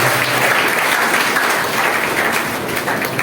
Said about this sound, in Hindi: जोरदार ताली हो जाएगी विश्वरत्न के लिए।